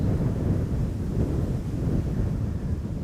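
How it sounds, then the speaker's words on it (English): Strong, gusty wind at Amsterdam Schiphol Airport buffets an outdoor microphone, making a steady low roar with no pauses for the full three seconds and no voices on top. "Got a feeling that we still have double-digit wind speed over here."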